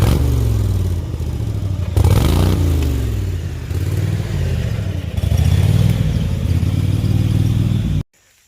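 A garden tractor drives off-road in top gear over rough, steep ground, its engine roaring and rising and dipping in pitch with clattering bumps, close and loud until it cuts out near the end.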